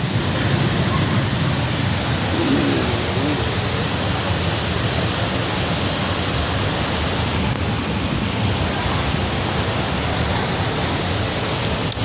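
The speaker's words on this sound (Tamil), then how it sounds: "தண்ணி" Rushing water at Hogenakkal falls, a loud, steady broadband roar that stays constant throughout with no talk over it.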